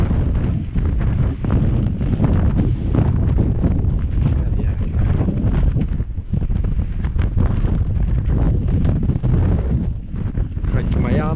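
Strong wind gusting across an open stillwater lake during fly fishing in the UK, a loud continuous buffeting roar battering the microphone with no break.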